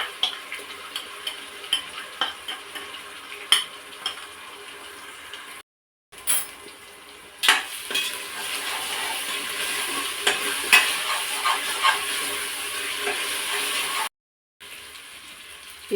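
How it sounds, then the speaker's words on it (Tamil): Ginger garlic paste and a ground pepper, cumin and coriander paste sautéing in a pan for attukal kuzhambu, a continuous close sizzle with sharp ladle clicks and scrapes and two brief gaps. "இஞ்சி பூண்டு பேஸ்ட்டு நல்லா வதங்கின உடனே நம்ம அரைச்சி வச்சுருக்கிற அந்த மிளகு, சீரகம், கொத்தமல்லி எல்லாம் அரைச்சில அந்த பேஸ்ட்டு சேர்த்துக்கலாம்"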